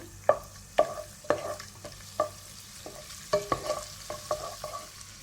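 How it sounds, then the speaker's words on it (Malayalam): Butter sizzles as it melts in hot oil left over from frying chicken, a soft steady hiss punctuated by regular scraping stirs of a spatula against the pan, no voices. "നമ്മൾ ചിക്കൻ വറുത്ത ഓയിലിൽ തന്നെ 2 പീസ് ബട്ടർ കൂടി ഇട്ട് കൊടുക്കുന്നുണ്ട്."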